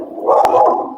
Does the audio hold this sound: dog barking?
yes